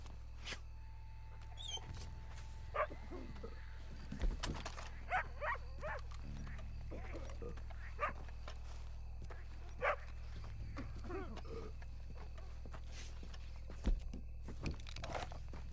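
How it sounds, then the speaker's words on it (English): In the video game Red Dead Redemption 2, a dog barks in short scattered bursts amid quiet outdoor ambience, with soft footsteps and rustling between the barks. "Stupid mutt, get out of here."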